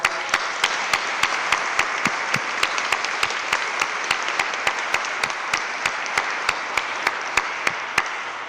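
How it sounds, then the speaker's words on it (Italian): Audience applause for Monsignor Michele Tommasi at a church gathering, a steady, sustained roar of many hands clapping, loud and even, with sharp regular clicks cutting through it. "Monsignor Michele Tommasi, a cui facciamo ancora un applauso"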